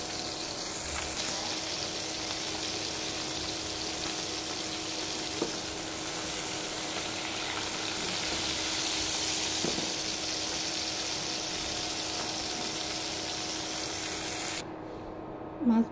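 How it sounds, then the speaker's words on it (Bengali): Mirka fish frying in a pan, a steady, moderately loud sizzle with a faint hum beneath, continuing unbroken before cutting off abruptly near the end. "মাছ ভাজাটা হয়ে গেছে, নামাই নিলাম।"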